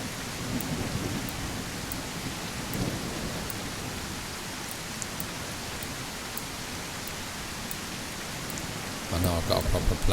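Steady rain pours down with faint rolling thunder during a storm in the survival game Mist Survival, a continuous hiss with a few sharp ticks, swelling louder near the end.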